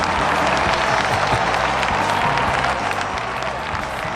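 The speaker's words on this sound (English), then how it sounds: "Oh, raucous applause." Raucous studio audience applause on a cannabis-themed talk radio show, a dense, loud, steady wash of clapping with some cheering that fills the whole stretch without letup.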